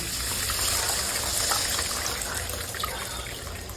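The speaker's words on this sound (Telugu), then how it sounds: "ఈ స్టేజ్లో ఉన్నప్పుడు మనం ఇందులోకి చింత పులుసుని యాడ్ చేసుకోవాలండి" Tamarind juice pours into a simmering fish curry made with raw mango, giving a steady, close gushing flow of liquid that lasts throughout with no speech.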